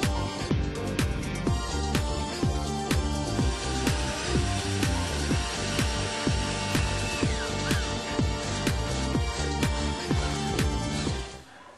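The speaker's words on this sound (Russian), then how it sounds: "надеваем на кнопку домофона нашу самодельную антивандальную панель и прикручиваем ее" A homemade anti-vandal panel is fastened over an intercom button with self-tapping metal screws, and a power screwdriver whirs in a steady loud run of rhythmic pulses close by, cutting off at the end.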